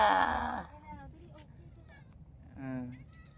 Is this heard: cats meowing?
yes